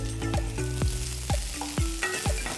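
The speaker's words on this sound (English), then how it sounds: "Saute the vegetables for about 5 minutes." Onion, capsicum, garlic and ginger sauté in hot oil, a soft sizzle broken by several sharp rhythmic clanks of a spatula against the pan, close and without voices.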